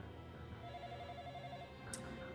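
An anime episode plays a telephone ringing, a faint, steady electronic trill that continues for a couple of seconds beneath a low background hum.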